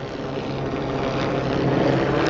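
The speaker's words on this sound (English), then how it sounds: "is that a helicopter doing a side shuffle up there?" A helicopter flies overhead during a night rehearsal at an Olympic stadium, a continuous low mechanical rotor drone holding steady and growing slightly louder toward the end.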